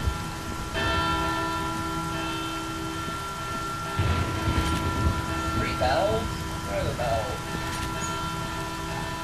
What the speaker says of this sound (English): I shot the bells and it didn't work.